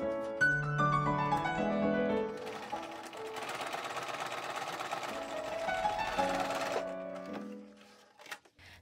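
A sewing machine stitches narrow channels into doubled cotton tape, running in rapid continuous bursts of rattling stitches, loud and close, then stopping with a few clicks; music plays underneath.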